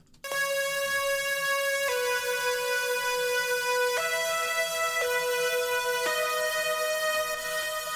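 Synth lead sounds bright, buzzy sustained notes, one at a time, changing pitch every couple of seconds, steady and upfront with no talking.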